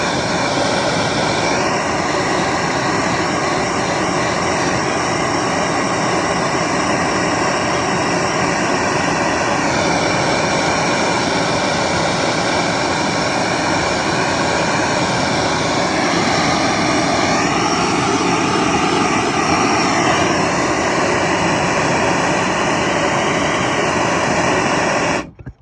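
A Quicklite 327 pressurized lantern with a heated generator burns with a loud, continuous roaring hiss. A faint steady whine and tonal hum sit over it, holding unbroken for the whole span.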